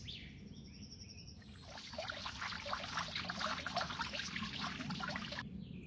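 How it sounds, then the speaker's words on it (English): Flowers being watered outdoors: a steady broadband pour of water splashing for about four seconds, moderately loud, with faint bird chirps heard before it begins. "Let's water them so the flowers grow faster."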